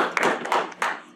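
Audience clapping for a presenter at a university library research symposium, a short burst of several distinct hand claps close by with a few louder accents, no talking over it.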